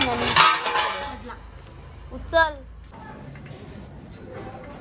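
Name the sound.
dishes and pots clinking while being washed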